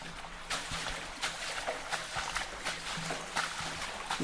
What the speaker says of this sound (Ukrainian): це діти стрибають по калюжах